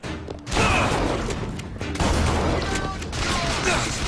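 Gunfire in Bioshock Infinite: loud repeated shots and crashing impacts in rapid bursts, close and harsh, with game effects and someone talking between them.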